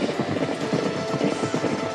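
Racehorse hooves galloping in the horse racing video game DOC, a dense continuous drumming of many hoofbeats from a field of thoroughbreds, moderately loud and steady with no talking.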